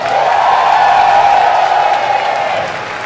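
Audience at a Blue Space drag show applauding: a dense, loud wash of clapping and scattered cheers that holds steady, then tapers slightly toward the end.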